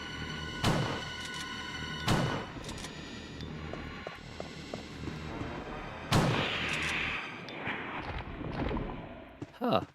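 Fire rounds launched from a launcher in a Resident Evil game thump out in a few sharp, heavy blasts spaced a couple of seconds apart, over quieter in-game rustling and steps.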